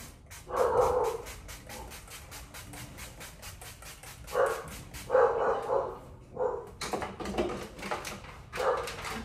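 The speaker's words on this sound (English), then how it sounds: "My dogs are barking." Dogs bark repeatedly in clustered bursts, fairly close, with short pauses between volleys and some yipping mixed in.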